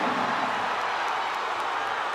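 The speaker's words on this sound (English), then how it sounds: "you can hear the crowd getting behind Gabe Arnold" A wrestling arena crowd cheers steadily for Iowa's Gabe Arnold during a 184-lb college match, a continuous, even roar of many voices with no distinct claps or peaks.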